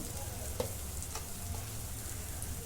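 Onion-garlic masala with coriander powder, cumin, garam masala and turmeric sizzles in a pan for a black eggplant curry, a steady, moderately quiet frying hiss with a few faint stirring taps and no speech.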